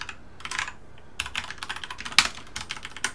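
Rapid typing on a computer keyboard while entering C++ code, with quick bursts of close, crisp key clicks separated by short pauses and one sharper keystroke near the middle.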